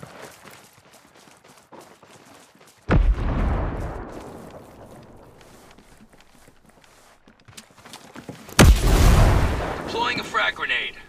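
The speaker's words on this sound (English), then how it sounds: "Deploying a frag grenade." Frag grenade blasts and gunfire in the video game Ghost Recon Breakpoint, two heavy booming explosions with rumbling tails, a quieter scatter of shots and combat noise before them, and voices in the mix.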